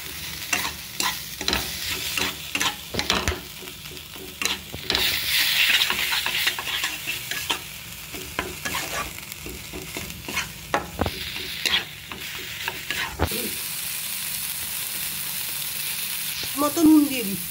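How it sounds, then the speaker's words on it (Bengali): Spices with chopped tomato, cumin, chilli and turmeric powder fried in a pan, with repeated scraping stirs over a steady sizzle and louder frying toward the end. "দিয়ে মশলাটা ভালো করে কষে নেব"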